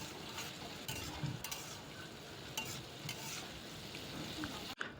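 Mushroom curry seasoned with garam masala sizzles steadily in a pan while a spoon stirs through it, with occasional scrapes and a sharp clack near the end.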